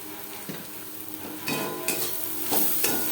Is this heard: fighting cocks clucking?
no